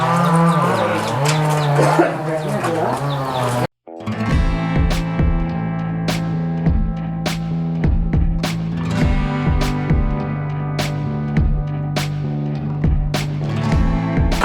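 A loud, low Banni buffalo moo opens, then steady rhythmic music with a droning tone and regular percussive hits takes over.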